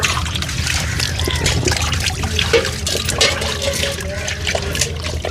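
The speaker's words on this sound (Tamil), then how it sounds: "இப்போ கழுவுறதுக்கு அந்த அக்கா கழுவிட்டுருக்காங்க." Water splashes and trickles continuously as fish are washed at a Rameswaram fish shop, with a busy, close wet sound throughout.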